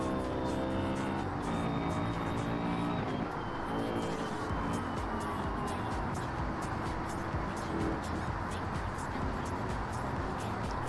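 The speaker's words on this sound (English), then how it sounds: "It's just the loud-ass Mustang engine behind me." Loud Ford Mustang engine roaring steadily in a police pursuit video game, with a Ford Explorer close behind, the drone dense and continuous throughout with shifting engine tones and some talk over it.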